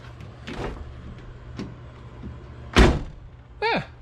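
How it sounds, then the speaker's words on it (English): Doors of a 1985 Chevrolet Camaro Z28 T-top being closed, with a sharp solid thud near the middle and a squeaky mechanical swing just after, amid light handling noises and faint background hum. "The doors shut amazing."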